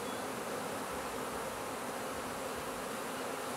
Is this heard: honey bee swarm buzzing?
yes